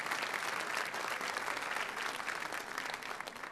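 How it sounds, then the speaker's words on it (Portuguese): Congregation in a church breaks into sustained applause, a dense, even wash of many hands clapping at moderate level that tapers slightly toward the end, with no talk over it. "Então aplaude essa decisão que o seu irmão está tomando agora."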